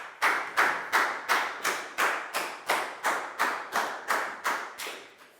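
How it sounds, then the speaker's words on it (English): A Year 4 class clapping in a classroom, about thirteen slow, evenly spaced unison claps, each a sharp hit with a short decay, fairly close and with no talk. "Big round of applause for Pangpon"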